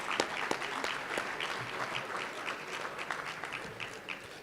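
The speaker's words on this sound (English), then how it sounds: "Give yourselves a round of applause." An audience at a men's breakfast event applauds with sharp, distinct claps in a lively, sustained round, fairly close and unbroken by talk.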